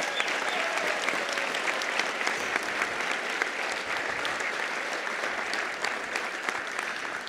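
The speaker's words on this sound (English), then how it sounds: "So big round of applause for the ng-conf team as well." A conference audience applauds for the event team, with steady, dense clapping from a large crowd filling the whole stretch at an even level.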